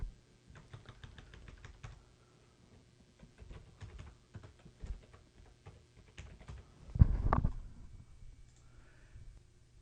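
Fast, light clicking of a computer keyboard as a title is typed, in irregular bursts with short pauses and one louder cluster of keystrokes, close and quiet with no voices.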